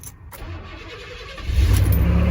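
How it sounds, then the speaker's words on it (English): An OBS Chevy Silverado pickup engine cranks briefly, then catches and roars to life, settling into a loud, steady rumble. "So now let's try to start the truck."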